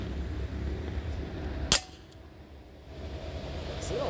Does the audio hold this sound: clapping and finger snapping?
no